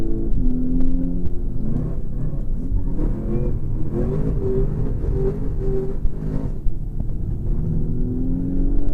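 A Pedders eXtreme VE race car accelerating hard through a track lap, its engine droning loud and close and rising in pitch under throttle, with continuous rumbling road and wind noise.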